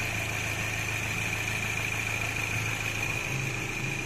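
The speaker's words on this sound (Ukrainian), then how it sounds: "Двигун працює стійко, ніяких сторонніх шумів немає" A Peugeot 3008 engine, after timing chain replacement, idles steadily and evenly, a continuous low hum with a faint high whine, no other sounds.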